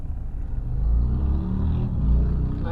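A motorbike passes in city traffic on a car ride from The Gap into Brisbane City, a low engine rumble swelling and fading against the steady drone of the car's own motor.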